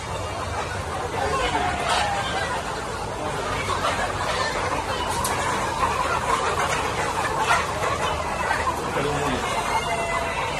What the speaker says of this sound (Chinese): 这都公鸡